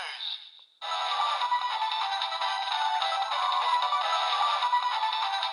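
A DX Faiz Phone X toy plays its finisher effect, a bright electronic tone sustained for several seconds after a brief first burst and a short pause.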